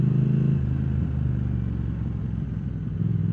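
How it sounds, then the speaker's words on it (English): A Triumph Thruxton TFC motorcycle engine runs steadily and close, a low even mechanical drone that eases slightly after a brief louder start, with no talking. "Engine just spins up so fast."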